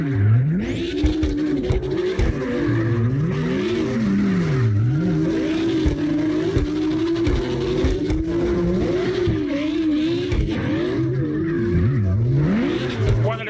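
Several cars drift in tandem in the CarX Drift Racing Online video game, engines revving and tires squealing in continuous, swooping, looping pitches, loud and sustained throughout.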